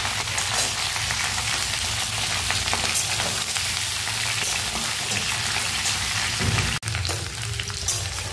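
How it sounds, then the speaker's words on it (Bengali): Cauliflower and carrot frying in oil, a loud, dense, rain-like sizzle that stays even throughout, briefly interrupted by a knock near the end. "তো এইভাবে ফুলকপিগুলোকে ভালোভাবে লাল লাল করে ভেজে নেব।"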